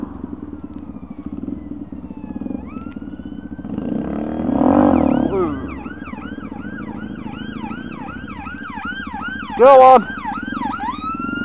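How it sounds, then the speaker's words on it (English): An ambulance siren wails in repeated rising and falling sweeps as it passes a motorcycle on a chilly sunset ride, rising over the steady engine drone, with a brief loud burst near the end and a rider speaking briefly. "Ambulance."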